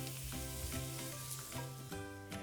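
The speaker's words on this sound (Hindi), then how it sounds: "हमारी किशमिश भून चुकी है।" Raisins roasting in a pan, a steady close sizzle of frying with a continuous crackle and faint stirring scrapes, heard without any voices.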